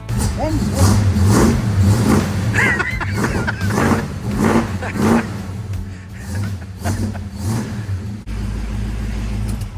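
A 1973 Chevrolet Nova engine with a dried-up accelerator pump revs up and down repeatedly, a loud rumbling drone with rising surges, while people talk over it.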